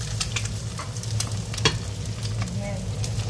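Eggs with cheese fry in a pan with a steady, close crackling sizzle and scattered sharp pops, plus a brief stirring scrape midway.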